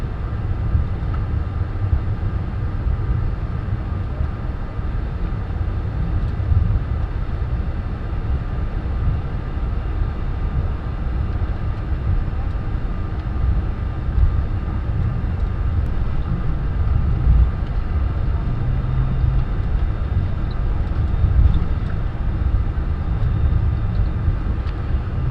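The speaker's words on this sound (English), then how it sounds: "clear for takeoff, rolling takeoff" An Airbus A310 jet airliner of the German Air Force rolling down the runway for takeoff, heard from the cockpit as a steady, loud, low engine roar and rumble that holds evenly throughout.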